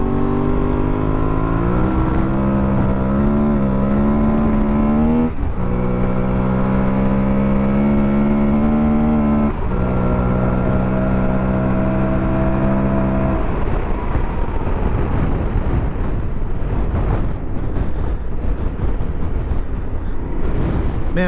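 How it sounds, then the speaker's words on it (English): An Aprilia Tuareg 660 adventure motorcycle slides sideways on gravel and dirt roads, its engine droning loud and close with rising and falling revs, sustained throughout with no voices. "You can see that it still lets me get the bike pretty sideways."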